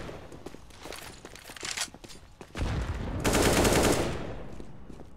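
Gunfire in a Counter-Strike match, starting as several scattered shots and footsteps, then a loud, dense burst of rapid automatic fire that carries on for over a second before tapering off.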